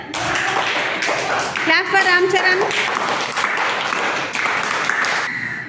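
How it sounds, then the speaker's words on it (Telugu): A group of participants at a school sports day claps for a game winner. The applause is steady and fairly close, a voice speaks over it, and a short tonal ping rises briefly in the middle. "Clap for Ram Charan."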